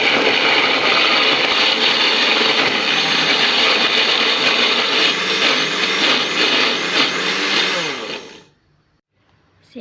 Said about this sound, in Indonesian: Nyalakan blender.